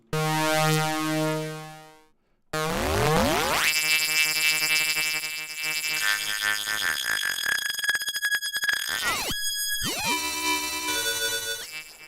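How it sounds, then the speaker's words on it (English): A ring-modulated signal from the U-He Zebra 2 software synthesizer plays alone: buzzy, metallic tones with sweeping, gliding pitches, a short gap of silence, then dense inharmonic chirps and a clear sliding sweep near the end. "let's mute this and just hear the ring modulated signal"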